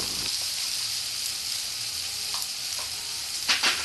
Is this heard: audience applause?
no